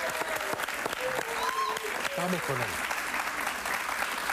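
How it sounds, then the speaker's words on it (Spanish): A studio audience on a Venezuelan talk show applauds steadily throughout, with a host talking over the clapping. "Un aplauso para él, ¿verdad?"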